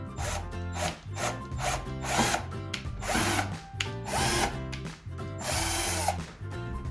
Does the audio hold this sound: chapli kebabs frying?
no